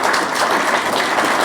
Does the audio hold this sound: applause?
yes